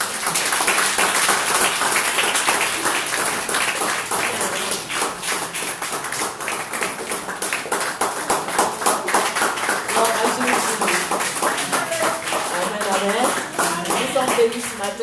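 A church congregation claps and cheers in a steady, dense wash of applause at a Sunday worship service, with voices mixed in throughout the round.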